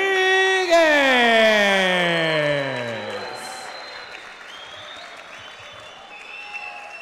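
A large crowd at a professional boxing debut in Santo Domingo, Dominican Republic, applauds and cheers after a technical-knockout win. A falling horn-like tone opens it, then loud, dense applause gradually settles into a softer crowd roar.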